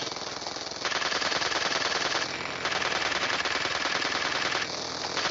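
Continuous rapid minigun fire from a PUBG Mobile zombie mode match, a dense rattling stream of shots that runs almost without pause, dipping briefly before resuming at full loudness.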